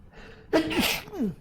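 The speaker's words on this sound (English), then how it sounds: "I was sneezing too, it's fine." A single loud sneeze bursts out after a soft breath, followed by a brief voiced exhale or sigh, close to the microphone in a quiet indoor room.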